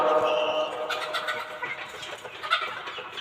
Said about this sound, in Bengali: দেখুন আর এই পাশে দেখুন তিতির মুরগি, আর উপরে কোয়েল পাখি।